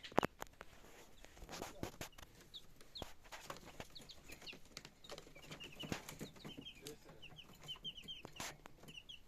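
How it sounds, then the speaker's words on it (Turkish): Many small chicks peep in a continuous high chatter, with scattered clucks, taps and rustling close by, fairly quiet overall. "Bu civcivler kaç günlük?"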